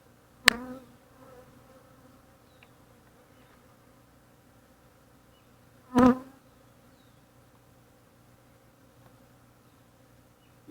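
Honeybees hum faintly and continuously as frames are set into a hive, broken by two sharp knocks of wood on wood, one early and one midway, with no talk.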